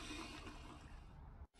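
A cartoon toilet flush from a Skibidi Toilet animation, a steady rushing wash of water that holds at a moderate level for over a second, then cuts off abruptly in a short dropout.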